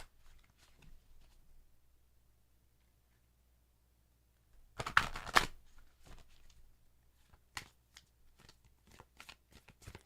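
Tarot cards being shuffled, with a short dense burst of riffling in the middle followed by scattered light card taps, near and fairly quiet, after a mostly silent start.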